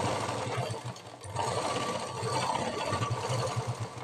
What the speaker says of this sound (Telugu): నేను డైరెక్ట్గా మిషన్ మీద కుడతాను